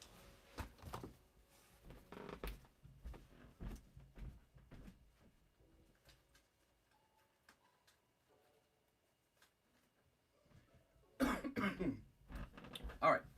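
Coughing from an irritated throat, with a few harsh coughs early on, a quiet stretch, then a loud cluster of coughs near the end, close by amid faint handling noises.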